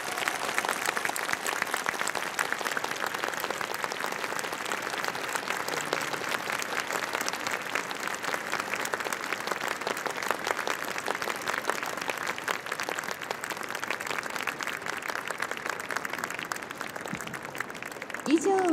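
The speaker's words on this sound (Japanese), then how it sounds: "オールメンバーに大きな拍手をいただいて今日のフィナーレとさせていただきます" A large audience at the Aomori Night special event of Furusato Matsuri Tokyo 2023 applauds the dance performers in a steady, dense wall of clapping that holds for the whole stretch, with a brief voice near the end.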